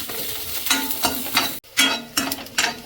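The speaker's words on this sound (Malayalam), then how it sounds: "ചെറിയുള്ളി ഒന്ന് വാടുന്നതും വരെ നമുക്ക് ഇങ്ങനെ ഇളക്കി കൊടുക്കാം" Shallots fry and are stirred in a pan for a moderate curry, with a steady sizzle broken by repeated scraping strokes of a spoon, close and fairly loud, with one brief pause partway through.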